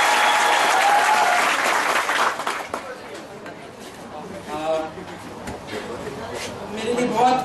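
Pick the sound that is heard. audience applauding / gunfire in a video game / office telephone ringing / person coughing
audience applauding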